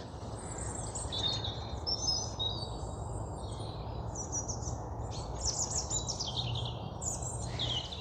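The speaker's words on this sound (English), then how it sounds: "just listen to that bird sound." Several birds chirp and trill high in cold woodland over a steady low background hum, faint and distant, with overlapping calls throughout.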